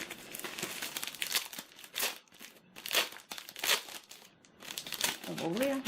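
Crinkly paper wrapping on a Christmas pack being torn open and handled, close, loud bursts of rustling and crumpling in irregular waves with brief pauses.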